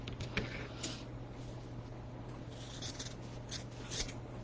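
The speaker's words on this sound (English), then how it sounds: "So I'm going to cut them in half first." Scissors snip through craft strips, a few faint, short cuts over a low steady background hum.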